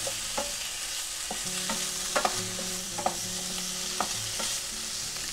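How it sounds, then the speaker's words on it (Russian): Bacon frying in a skillet with no added oil, a steady close sizzle broken by scattered scraping and stirring knocks. "Забрасываем на сковороду бекон."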